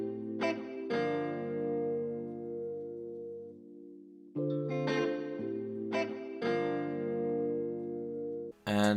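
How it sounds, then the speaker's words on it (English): A Rhodes electric piano shaped with EQ and reverb in FL Studio plays sustained chords that ring and slowly fade, pause briefly, then return as fresh chord strikes, heard alone and close. "Then we got this Rhodes piano thing"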